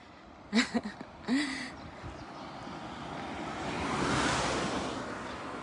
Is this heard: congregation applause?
no